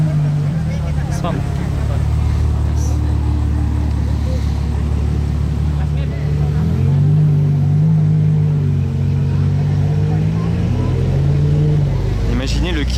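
A Ferrari Monza SP2 moves slowly through a crowded casino square. Its engine gives a deep, steady rumble that rises and falls, with people talking throughout.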